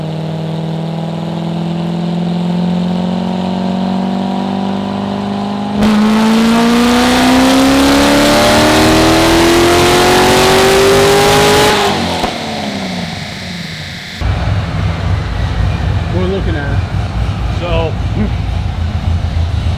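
A tuned car's engine on a dyno revs up, climbing steadily in pitch into a loud, sustained roar before cutting off and settling into rough, burbling revs, with voices talking over it.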